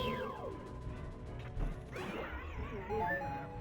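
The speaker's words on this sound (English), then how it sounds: "That's a good death sound." Enemy death sound in The Legend of Zelda: Ocarina of Time, a busy mechanical crash and ratcheting clatter with descending swept tones, followed by rising synthetic chimes, loud and continuous against game background noise.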